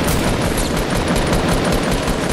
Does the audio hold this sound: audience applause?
no